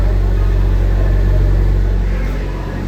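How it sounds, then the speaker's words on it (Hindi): A Maruti Suzuki Fronx Delta Plus with 10,000 km on it idles from a cold start, its exhaust giving a steady, loud low rumble close by that eases slightly toward the end. "ये इसके एग्जॉस्ट का साउंड है।"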